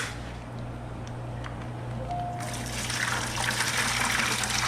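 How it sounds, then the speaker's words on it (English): Water trickles and then gushes as goldfish are poured from a bag into an indoor pond, a steady splash that grows louder midway, with a low hum beneath. "All right, we're gonna drop these goldfish in the pond."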